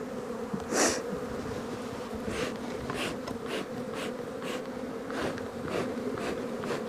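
Honeybees crawl and buzz over an open brood frame during a hive inspection, a steady close hum broken by brief louder buzzes as individual bees pass near.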